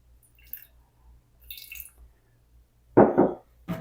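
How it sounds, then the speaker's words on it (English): About 30 grams of water is poured into a jar of sourdough starter scrapings: after faint quiet handling noises, a short close splashing pour arrives, then another brief trickle. "So I'll put 30 grams of water,"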